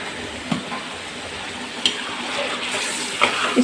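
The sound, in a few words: yogurt added and frying with chicken masala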